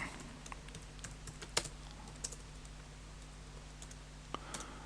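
Keys tapped on a computer keyboard while typing a place name into a mail-merge document, quiet irregular clicks in short bursts with gaps, alone over a low steady hum.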